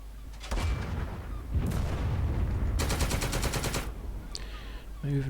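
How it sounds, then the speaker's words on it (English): Bipod-mounted medium machine gun fires in a Normandy beach landing game, with loud rapid bursts over booming battle noise and explosions, close and continuous, no talking. "Here, this machine gun on a bipod. MG, medium machine gun,"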